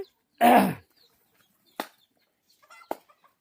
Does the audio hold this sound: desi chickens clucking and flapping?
yes